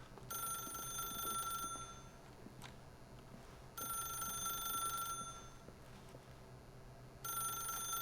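A telephone in the video game The Stanley Parable rings in long repeated bursts separated by pauses, each ring a steady electronic trill heard alone over a faint background hum.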